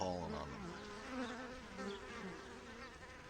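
Honey bee foragers buzz as they return to the hive, a steady, dense, wavering drone of many wings close by, with a faint voice under it.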